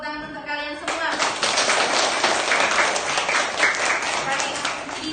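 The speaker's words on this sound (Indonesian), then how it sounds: "Tepuk tangan untuk kalian semua." A class gives a round of applause: after a brief voice at the start, steady clapping from the group fills the clip at an even, moderate level, with sharp individual claps scattered through the broadband wash.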